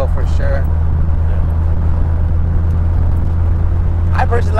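A 1986 Toyota Hilux pickup engine droning steadily from inside the cab while driving, a loud constant low rumble with faint voices briefly at the start and end.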